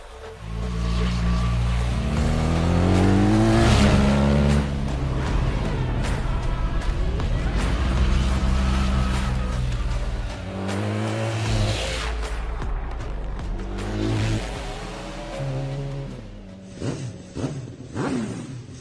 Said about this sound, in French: Et voici la BMW R1300 GS.